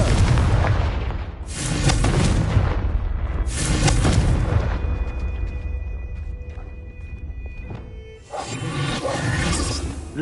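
Explosions from the Confringo spell in the Hogwarts Legacy video game: several loud, rumbling booms that burst out and then fade, with a faint tonal hum between them and no voices.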